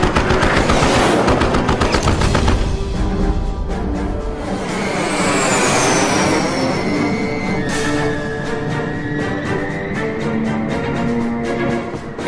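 During a jet fighter air battle, rapid machine gun fire from an aircraft rattles loud and close in dense bursts, then gives way to a sustained whining engine roar with more scattered shots.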